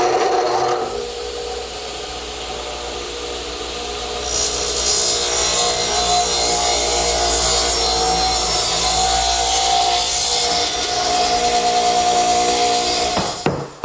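A table saw cuts a wood brace piece pushed along the rip fence, starting from a spinning whine and settling into a loud, sustained ripping roar that stops abruptly near the end.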